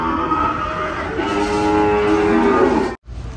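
Cattle at a livestock sale barn moo loudly in a long, drawn-out call lasting nearly three seconds, with other barn noise around it and a brief cut near the end.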